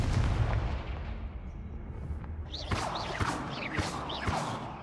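A Confringo blasting spell in Hogwarts Legacy, heard as a series of sharp, loud explosive bursts and cracks over a rumbling background, several impacts clustered in the latter half.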